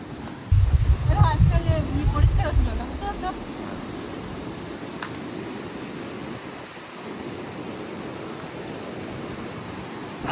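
Sea waves at Mandarmani beach wash in a steady broad roar, with low wind rumble buffeting early on and voices talking over it.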